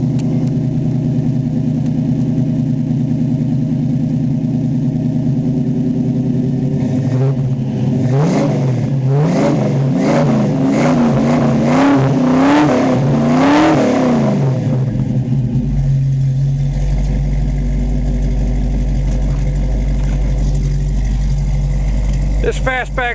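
A raven black 1966 Ford Mustang Fastback on American Racing Torque Thrust wheels idles with a deep rumble, then revs up several times in quick blips before settling back to a steady idle, loud and close.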